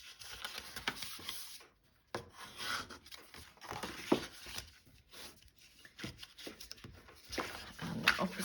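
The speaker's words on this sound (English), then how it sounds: "Use our bone folder to go around and sharpen each of the edges again" A bone folder rubs and scrapes along the edges of a glued card pizza-style gift box, making repeated dry rasping strokes with short pauses. The strokes are close and moderately loud, and no one speaks.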